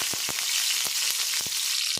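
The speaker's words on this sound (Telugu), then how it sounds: "ఇవి బాగా ఎర్రగా ఫ్రై చేసుకోవాలి. గోల్డెన్ కలర్ వచ్చిన వరకు మనం ఫ్రై చేసుకోవాలి." Chopped onions and green chillies sizzle steadily in hot oil with a dense, continuous crackle, broken by a few soft stirring taps.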